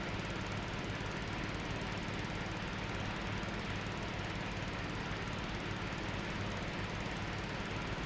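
A John Deere mower with a 105-inch deck and five independent cutting decks drones steadily while cutting grass on a golf course in Farming Simulator 22, a continuous close engine rumble with no talk.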